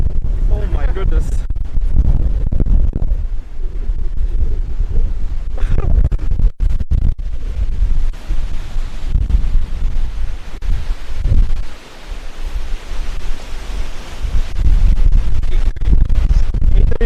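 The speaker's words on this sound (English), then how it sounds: "Whoa, it's so windy." Strong wind buffets an outdoor microphone at a charity stream in Rikuzentakata, roaring and rumbling steadily in loud gusts throughout, with someone talking under it.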